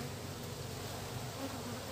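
Queenless honeybees in an opened beehive give a steady, dense buzzing drone that holds close and even throughout, with no voices.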